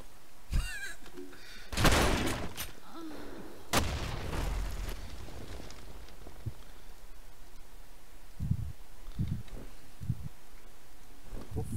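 In the competitive shooter game Blackshot, a grenade is fired, followed by a few sharp explosive bursts scattered across a quiet, low-level game background.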